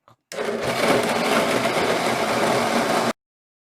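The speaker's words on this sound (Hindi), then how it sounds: "मिल्क शेकर में डाल के इसको ग्राइंड कर लेते हैं" A milk shaker blender grinding raw mango (keri) sharbat, a loud, steady whirring motor roar that starts abruptly and stops cleanly after about three seconds.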